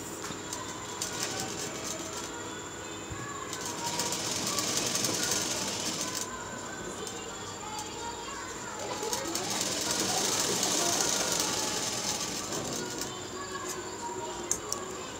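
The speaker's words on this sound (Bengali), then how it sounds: "এই ধার দিয়ে সেলাই লাগিয়ে দেব" A sewing machine stitches along a folded fabric edge while making a blouse latkan, its whirring run rising in two sustained bursts with a quieter pause between.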